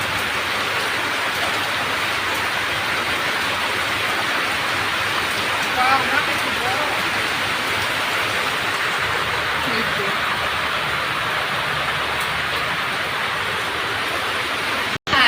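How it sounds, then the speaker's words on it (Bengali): Steady rain falls across a village, a dense even hiss of drops that holds at a constant level throughout, with no voices and only a brief dropout near the end. "এই বৃষ্টিটা হয় এই মাসের মাথায় বড়"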